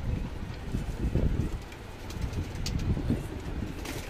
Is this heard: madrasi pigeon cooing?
yes